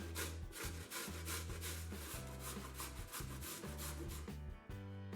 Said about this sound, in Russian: Тыкву натираем на мелкой терке.